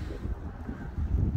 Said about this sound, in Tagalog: Malamig. Mahangin.